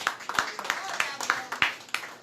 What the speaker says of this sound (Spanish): Dale un aplauso a Cristo para Dios exaltar.